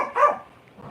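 A dog gives a single short, close bark, followed by a faint trailing whine.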